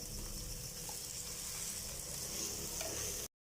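Frozen peas sizzle and fry in a hot oil tempering, a dense continuous crackling hiss with faint stirring, close by and without speech, ending abruptly.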